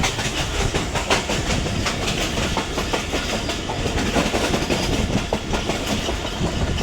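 Awam Express 13 Up passing through Noor Junction station: a loud, steady train rumble with continuous clickety-clack of wheels over rail joints, close by and unbroken throughout.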